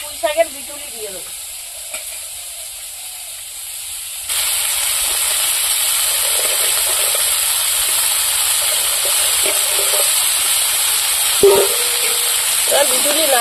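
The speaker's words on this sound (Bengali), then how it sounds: "চিংড়ি মাছ কাঁকড়া ভেজে নিয়েছি, এবার পুঁই শাকের বিটুলি দিয়ে দেবো।" Shrimp, crab and Malabar spinach stems frying in a pan with hot oil, a steady loud sizzle that jumps up when the stems go in and keeps hissing, with occasional stirring clinks.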